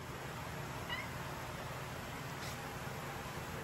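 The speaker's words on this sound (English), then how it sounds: "Kitty cat." A cat gives a couple of faint, brief meows in a workshop where a salvage-yard Honda S2000 differential is being repaired, nearly buried under a steady loud hiss.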